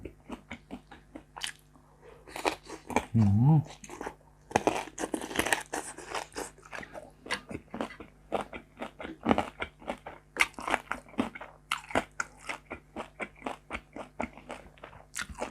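Crunchy bites and chewing of crispy fried pork neck salad, close and continuous, with repeated sharp crunches and wet chewing sounds over about fifteen seconds.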